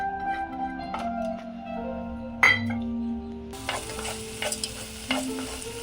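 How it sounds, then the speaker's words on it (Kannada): Washed moong dal frying in a spoon of ghee in a pan over medium flame, a soft continuous sizzle with light stirring scrapes and a brief clink, close and quiet under faint background music. "ವಾಶ್ ಮಾಡಿಟ್ಕೊಂಡಂತಹ ಹೆಸರು ಬೇಳೆನ ಪ್ಯಾನ್ಗೆ ಹಾಕಿ ನಾನು ಫ್ರೈ ಮಾಡ್ಕೊಳ್ತಾ ಇದ್ದೀನಿ"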